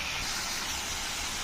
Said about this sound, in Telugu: ఇప్పుడు వంకాయ ముక్కలు వేసుకుందాము.